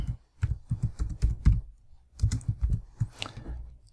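Fingers type on a computer keyboard in quick irregular bursts of close, crisp clicks, pausing briefly mid-way before another flurry of keystrokes.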